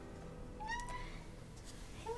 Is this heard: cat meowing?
yes